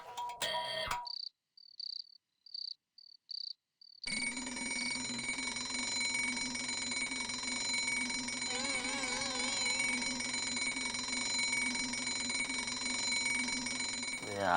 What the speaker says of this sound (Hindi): अलार्म रख के खुद सो रही है।